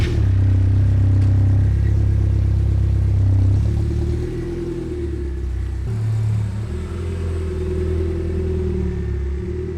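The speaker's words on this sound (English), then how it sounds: "I'm gonna drive to the store, quickly grab some of that red paint, drive right back" A car drives along the road on the way to the store, with a loud, steady low engine drone and rumble whose pitch shifts as it changes speed, and no voices.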